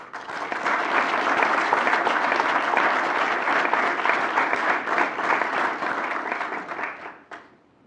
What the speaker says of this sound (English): Please join me in a round of applause for the spouses, children, parents, grandparents, and other family members